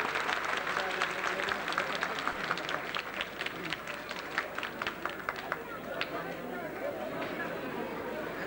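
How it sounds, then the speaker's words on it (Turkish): Wedding guests applauding at a ceremony, a dense burst of clapping from a crowd that stays steady for several seconds then thins toward the end, with murmured voices mixed in. "Alkışlıyor."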